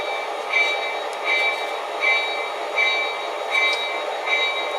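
RS 3 model locomotive circling a layout track, giving a steady running hum with a soft clicking accent repeating about every 0.75 seconds as it rolls over rail joints, moderately close and with no talk.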